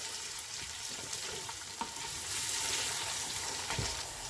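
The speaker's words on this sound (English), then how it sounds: "I'm going to add garlic and ginger. Give it a stir." Garlic, ginger and onions frying in a pan, a steady soft sizzle with occasional spoon scrapes and light taps as they are stirred, close-up and without voices.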